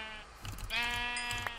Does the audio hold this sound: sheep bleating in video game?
yes